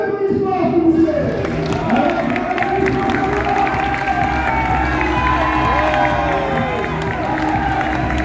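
A large crowd at a World Catch League wrestling show in Belgium applauds and cheers loudly and continuously, with shouts and whoops rising over the clapping, and an announcer's voice faintly mixed in.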